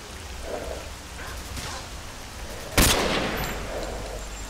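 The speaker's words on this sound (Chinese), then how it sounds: "枪声好像是从那里传来的" A single loud gunshot rings out in the S.T.A.L.K.E.R.: Call of Pripyat video game, cracking sharply through a steady hiss of rain and then fading off; no one speaks.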